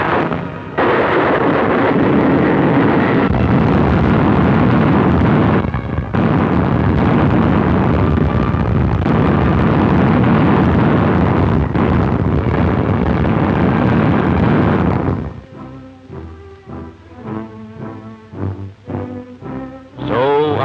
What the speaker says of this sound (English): No submarine can live within 20 feet of an exploding depth charge.